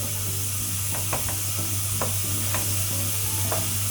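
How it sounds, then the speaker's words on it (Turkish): Beef tail meat fries in hot oil, giving a continuous close hiss with a low steady hum beneath and a few short crackles and pops scattered through the few seconds, with no voices. "Yağımla güzelce kavururum."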